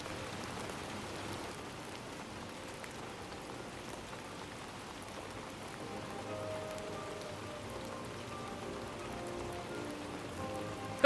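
Steady, soft patter of rain falling on an umbrella outdoors, a continuous even hiss of drops with no voices.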